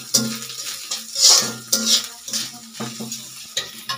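A spoon scrapes and stirs fried onions with ginger paste in a pan, giving repeated close metallic scrapes and knocks over a light sizzle in an uneven rhythm.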